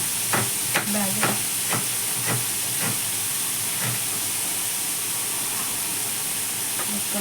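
Onion sizzling in hot oil for a potato and minced pork omelette, a steady loud frying hiss throughout, broken by several sharp clicks and scrapes of a utensil stirring in the pan, close up.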